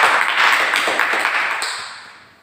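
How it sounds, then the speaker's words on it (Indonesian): An audience claps after an anti-smoking talk, with loud, dense clapping close by that fades away over the last second. "Tepuk tangan untuk kita semua"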